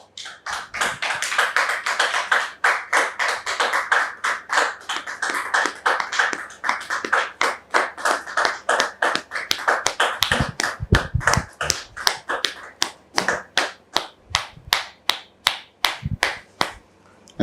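An audience welcomes a guest with rhythmic clapping, first a dense burst of applause that settles into a steady beat of sharp, separate claps.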